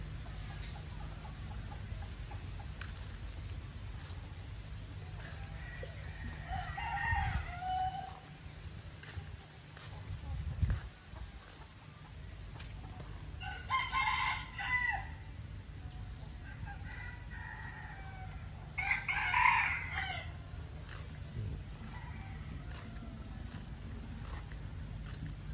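A rooster crows a few times at moderate distance on a rural land plot in Vinh Kim, the calls rising over a constant low hum and background noise.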